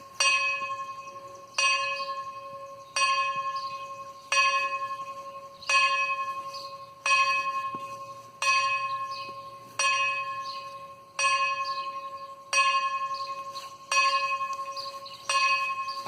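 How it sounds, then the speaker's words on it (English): A church bell tolls repeatedly in a steady, slow rhythm, each loud clear strike ringing out and decaying before the next, about a dozen strokes in a row. "You are hearing the church bell because I've chosen a bad time during the day to do this"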